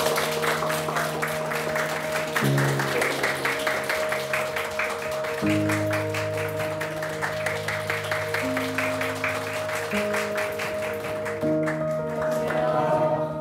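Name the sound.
audience applause welcoming two guests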